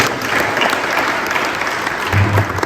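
Sustained applause from an audience at a formal speech event, a dense even wash of clapping throughout with a brief low murmur near the end.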